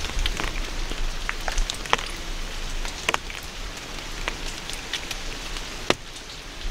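Rain falling in a forest at night, a steady hiss with scattered sharp drip and patter ticks, moderately faint and with no talking.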